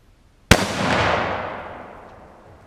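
A single 30-06 rifle shot fired at an AR500 steel target, a sharp loud crack followed by a long rolling outdoor echo that slowly fades away.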